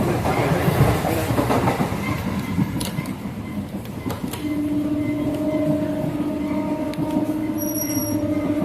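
A MEMU express train rolls along the rails, a loud, close, rumbling run with rhythmic clicking and rattling. A steady tonal whine rises partway through and a brief squeal comes near the end.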